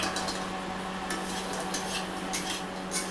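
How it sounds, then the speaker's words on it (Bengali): Bori lentil dumplings frying in mustard oil give a soft continuous sizzle, with a few light scrapes and clinks of a utensil stirring them in the pan. "বড়িগুলো ভেজে নেব"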